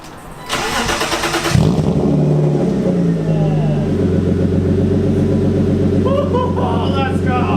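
A BMW E36 325i with a muffler delete cranks and fires up, then settles into a loud, raspy idle with the engine revving and burbling up close; voices are heard over it.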